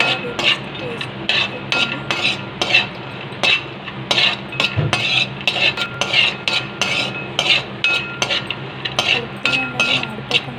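Multigrain baby cereal mix being stirred while it roasts in ghee in a pan, with a steady run of quick metal spoon scrapes and clinks against the pan, close and fairly loud, alone.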